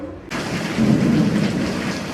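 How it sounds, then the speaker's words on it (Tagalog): Thunder rumbles low and steady through a loud downpour of heavy rain and strong wind, the roar of rain constant and close throughout, with no talking. "Kumukulog guys."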